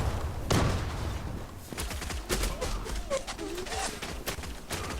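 Shotgun gunfire in the online shooter Zula, a burst of sharp shots and rapid firing sounding over ongoing game noise, with a voice talking intermittently.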